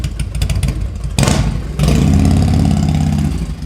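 A custom motorcycle fitted with a Masani road rage exhaust revs hard, a sharp throttle blip rising into a loud, sustained, deep rumbling roar close by, with no talking.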